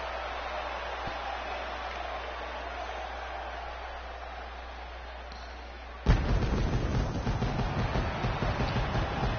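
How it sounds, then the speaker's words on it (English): Video-game pyrotechnic fireworks go off at a wrestling entrance, a sudden loud burst of crackling blasts after a quieter stretch of arena ambience. "we got the fireworks going on for her"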